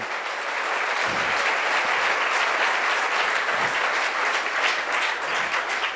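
A church congregation claps together in praise of the Lord. The applause is loud, dense and sustained, filling the room without a break for six seconds.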